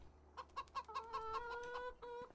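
Chickens clucking at a chicken coop in Farming Simulator 25, a string of short, close clucks in an uneven rhythm, followed by a longer drawn-out call, quiet overall with no talk.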